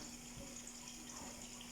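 A kitchen tap runs with a steady, even rush of water, close and continuous through the moment with no talking.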